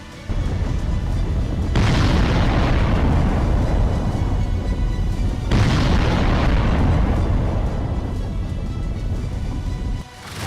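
Heavy bombing at an Iranian nuclear facility, two long roaring explosion bursts, loud and close, each rising suddenly and then slowly rumbling out over several seconds.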